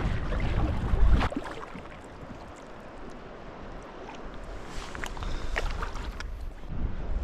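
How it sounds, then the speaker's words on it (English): Kayak paddled through shallow water in a Scottish wilderness, with soft splashes and water swishing against the hull, a louder gusty rumble at the start, and wind noise on the microphone throughout. "So I'm gonna try to paddle this way."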